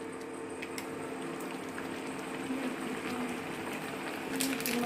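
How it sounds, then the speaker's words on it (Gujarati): Water boiling in a pot for Maggi noodles gives a steady, continuous bubbling hiss at moderate level throughout, with a faint voice in the background. "પાણી ઉકાળ"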